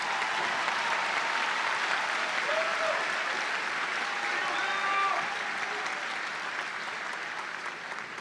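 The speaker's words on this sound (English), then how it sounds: "Let's have a round of applause for these graduates." A large audience at a spring university commencement applauds graduates in a steady, sustained wash of clapping that gradually eases toward the end.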